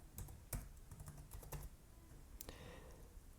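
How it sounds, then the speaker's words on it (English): Quiet typing on a computer keyboard in a room, a light, irregular run of key clicks with a few slightly sharper strokes, no voice. "you're gonna type scanner"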